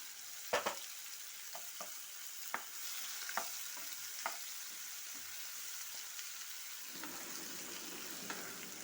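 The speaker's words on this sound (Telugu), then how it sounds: "ఈ మెంతులు, చెక్క, ఏలకులు అన్నీ వేగిన తర్వాత మనం రుబ్బి పెట్టుకున్న మసాలా కూడా వేసి బాగా ఫ్రై చేసుకోవాలి." Ground masala with fenugreek, cinnamon and cardamom fries in oil for aloo gobi, a faint steady sizzle broken by several sharp spoon taps against the pan, with no talking.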